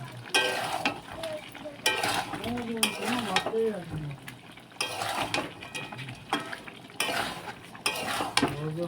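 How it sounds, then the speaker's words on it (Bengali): Meat being sautéed with garam masala in a pan, with a spatula stirring and scraping against the metal in repeated bursts over a steady close sizzle. "দিয়ে কিন্তু ভালোভাবে মাংসটা কষে নেব।"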